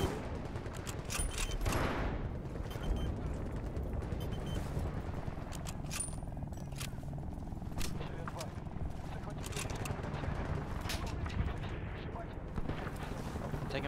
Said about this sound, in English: Taking fire already.